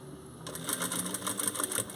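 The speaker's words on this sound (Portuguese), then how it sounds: "o tecido bem assentado na máquina e tô costurando" A home sewing machine stitches an invisible zipper onto fabric, its needle running close beside the zipper rail in a steady, fast rattling patter after a brief quiet start.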